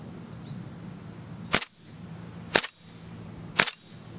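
A WE M14 gas blowback airsoft rifle fires three sharp semi-auto shots about one second apart, each a crisp snapping crack with a quick mechanical echo, over a faint room hiss.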